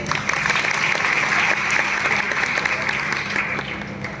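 An audience at a temple gathering applauds steadily, a dense, even wash of clapping that holds for about four seconds before easing slightly at the end, close and fairly loud with no voices over it.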